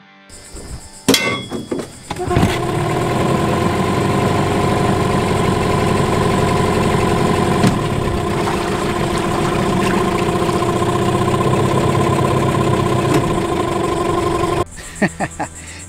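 A two-stroke outboard boat motor starts on the first pull with a clatter, then runs at a loud, steady idle with a buzzing mechanical drone before cutting off abruptly.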